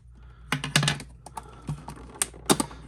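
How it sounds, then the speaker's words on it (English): Cutting a slit in plastic action figure packaging, heard as a few quick crisp snips and crackles of plastic at close range, spaced irregularly over a quiet background. "Cut this little slit open."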